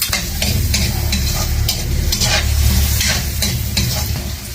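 Onion and garlic sizzle loudly in a pan while a utensil stirs in rhythmic scraping strokes, roughly one every half second, close up and with no voices.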